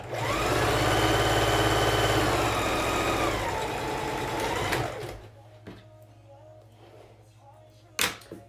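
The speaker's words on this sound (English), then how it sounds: "we're gonna sew right along that edge as close as possible" A sewing machine stitches along the pressed fabric edge of a child's face mask in a loud continuous run that slows and stops about halfway, followed by quieter handling noises and a sharp click near the end.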